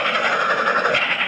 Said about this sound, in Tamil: ட்ரெயின் வேறு நிற்க மாட்டேங்குது. பிரேக் கொடுத்துருந்தால் நல்லா இருந்திருக்கும்.